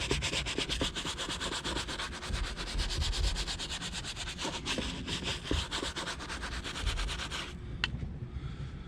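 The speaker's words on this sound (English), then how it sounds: "As you can see, I'm scrubbing it to a suds," A brush scrubs Chemical Guys interior cleaner into textured vinyl and works it to a suds, giving fast, continuous close-up scratchy strokes in a steady rhythm that stop abruptly near the end.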